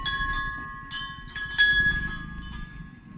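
Temple bell rung at a shrine, several metallic strikes whose clear tone rings on and overlaps between hits, close and moderately loud.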